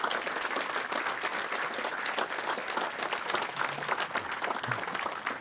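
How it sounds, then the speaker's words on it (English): Conference audience applauding a speaker, steady dense clapping from a room full of people sustained throughout, fairly loud and without speech. "we'll give you a round of applause in the usual way."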